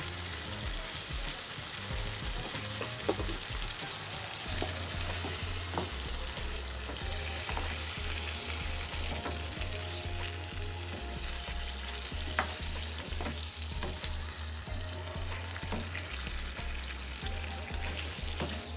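A meat and potato sauté is stirred in a frying pan, giving a steady sizzle with repeated scraping and clattering strokes of the utensil. It is heard up close and without talk.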